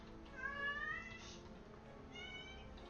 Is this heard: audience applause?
no